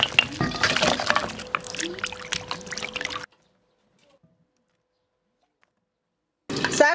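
Boiled lamb trotters are rinsed in water with a close, rushing splash of running and sloshing water. It cuts to silence for a few seconds, then the splashing returns.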